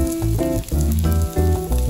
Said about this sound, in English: once it starts smoking, put your meat in